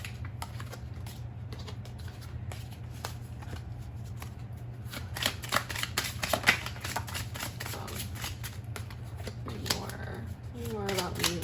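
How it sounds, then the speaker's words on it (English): Oracle cards shuffled and pulled during a tarot-style reading, with repeated soft riffling and snapping card noises over a low steady hum, a quiet voice speaking briefly near the end. "Let's pull some oracle cards."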